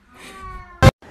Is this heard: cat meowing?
yes